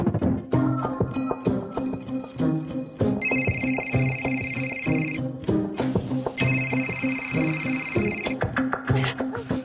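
A telephone rings in two long electronic bursts inside a Hindi TV drama scene, layered over a busy, rhythmic music track with thumping beats.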